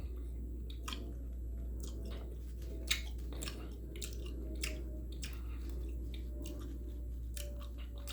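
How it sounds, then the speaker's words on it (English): Close, quiet, wet chewing of gum mixed with chewy Lemonhead candies, with soft repeated smacks and squishes over a low steady hum, with no voices. "Mixing the chewy lemon heads with the gum, trying to give it a little extra flavor"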